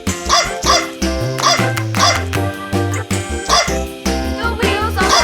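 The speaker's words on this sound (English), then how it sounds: "Dog." A dog bark sound effect plays inside a toddler's toy or learning-video music track, its repeated sharp yaps sitting among bright tonal notes at a steady bouncing rhythm.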